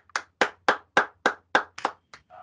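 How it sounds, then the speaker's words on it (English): At a university business pitch competition, a single pair of hands claps about eight times in an even rhythm, close and distinct, before a brief trailing sound at the end. "Let's give a round of applause."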